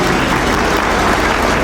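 Audience applause at a Hindi poetry gathering, dense continuous clapping from a crowd, loud and close, sustained without pause.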